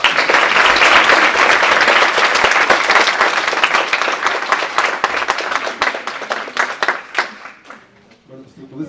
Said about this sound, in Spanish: Yo les quiero pedir un aplauso para sus compañeros.